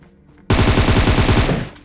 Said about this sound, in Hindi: लेकिन इतने में मेरे फायर होता है इस जगह से